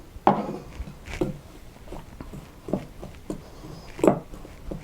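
Coconut oil bath bomb ingredients are stirred and scraped in a bowl, with a series of irregular close knocks and scuffs of the utensil against the bowl, a few louder taps standing out from quieter rubbing.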